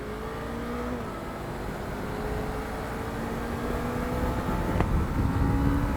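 A Suzuki Inazuma 250cc motorcycle engine accelerates steadily, its tone climbing and growing louder over several seconds with no talking.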